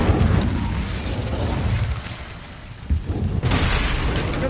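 Incendio fire spell in the Hogwarts Legacy video game, a booming, crackling burst of flame with rumbling bursts and pops layered over dense game background noise.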